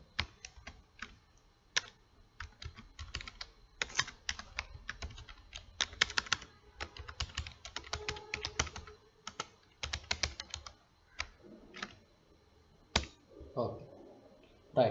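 Computer keyboard typing as Java program code is entered, irregular runs of close, crisp key clicks with brief pauses, a person speaking quietly at moments underneath.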